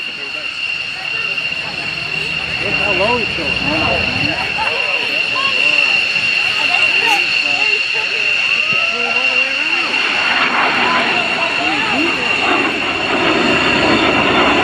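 An airplane flies a display at the 2022 Dayton Air Show, a steady loud engine drone holding throughout under continuous announcer commentary.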